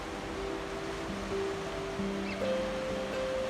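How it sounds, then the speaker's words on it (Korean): Ocean waves wash on a rocky seaside shore near Daewangam in Ulsan, a soft continuous surf rush heard from a distance with faint steady tones running beneath it. "가만히 귀를 기울이다 보면 파도 소리가 들리고"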